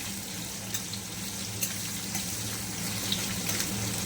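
Onion fries in hot oil in a home kitchen while a katla fish curry is being made, giving a steady, even sizzle with faint crackles and no talking.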